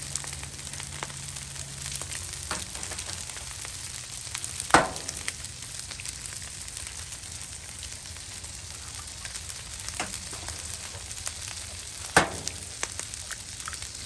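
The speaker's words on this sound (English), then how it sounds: "I'm going to add some eggs." Eggs frying in butter on a Blackstone flat-top griddle: a continuous, close crackling sizzle, broken by a couple of sharp scraping or tapping sounds from a silicone utensil.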